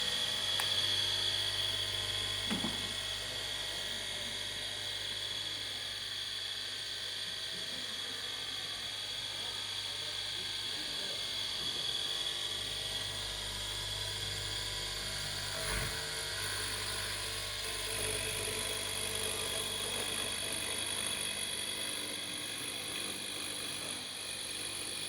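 An old overhead router for cutting stair treads runs with a steady high-pitched motor whine, continuous and fairly close, with a faint low hum underneath.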